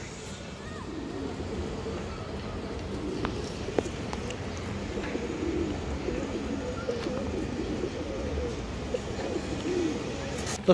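Two female pigeons coo in a low, continuous murmur at close range, fairly faint against a steady background hum, with a few soft clicks throughout.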